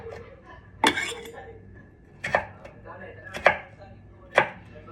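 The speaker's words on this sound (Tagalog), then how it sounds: "Patatas po, patatas. Hinihiwa ko." A knife cuts through potatoes on a board in a home kitchen. There are four separate sharp chops spaced a second or so apart, close by, with quiet room noise between them.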